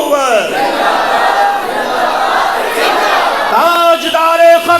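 A mosque congregation chants the religious slogan Tajdar-e-Khatm-e-Nabuwat in loud, dense unison. The group shouts are sustained and rise into sharper, rhythmic bursts toward the end.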